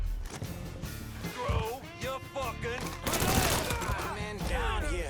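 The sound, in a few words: gunfire in a shootout in the video game Mafia III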